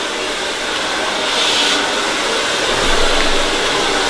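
A hair dryer blows in a steady, unbroken rush of air while hair is combed and dried flat, the whoosh holding even and close throughout.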